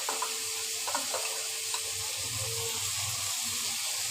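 Poppy seed paste fries in a pan with ridge gourd, potato and prawns, a soft continuous sizzle with occasional light stirring clinks close by.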